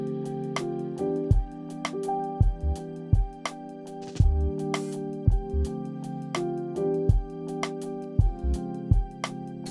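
A lofi jazzhop beat plays back in Ableton Live, with a steady looping groove of thumping kicks, crisp snare hits and mellow sustained chords repeating evenly for about ten seconds, no voices over it.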